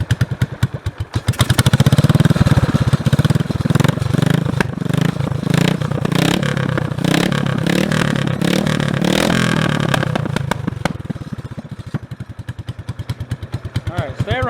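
A motorcycle engine idles and runs steadily close by, with a loud rumble that starts after a few opening clicks and fades back to sharp ticking near the end.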